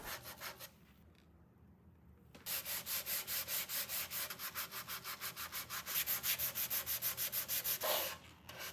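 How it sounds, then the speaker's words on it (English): Sandpaper rubbing over an old wooden campaign coffee table with a fly-speck finish, a fast steady rhythm of loud close scrubbing strokes, broken by a short pause near the start, with no talking. "Now I'm ready for the sanding process."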